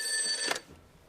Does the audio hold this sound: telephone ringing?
yes